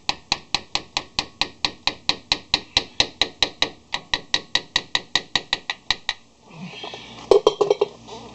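Hammer taps on the brake caliper of a Ford Explorer during rotor and pad replacement, about thirty sharp, evenly spaced metallic strikes in a steady rhythm, then a pause and a brief clatter of parts.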